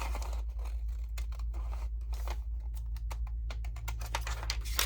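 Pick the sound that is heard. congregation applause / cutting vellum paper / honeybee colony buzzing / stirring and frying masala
cutting vellum paper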